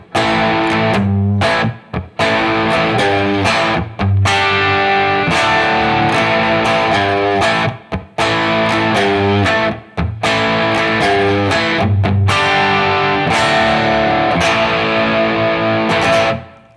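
Modified old Telecaster electric guitar with a metal-oriented distortion, played in single-coil mode: loud, dense distorted riffing with chugging rhythmic chords and brief stops between phrases, close and alone.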